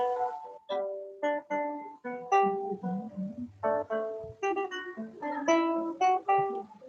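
Guitar plucked in a lively run of short, bright notes, each ringing briefly before the next, played close and alone.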